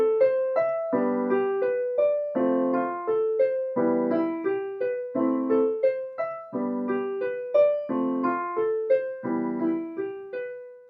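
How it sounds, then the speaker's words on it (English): A piano plays the Malagueña progression, with left-hand chords struck in turn with rising right-hand arpeggios, each chord ringing and decaying in a steady repeating pattern, solo and clear. "Now we're playing the left hand chord and then a right hand arpeggio."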